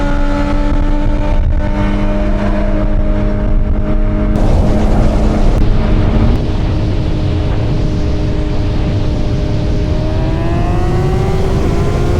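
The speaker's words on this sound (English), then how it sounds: "That bike loud as fuck." A loud BMW S1000RR motorcycle engine drones and revs continuously, pitch climbing as it accelerates, with heavy rumbling and wind noise throughout.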